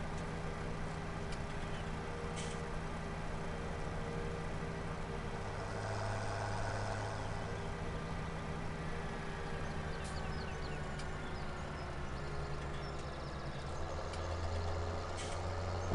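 A tractor engine in Farming Simulator 17 idles in a steady low, even drone throughout, moderately loud and unbroken, with no talking.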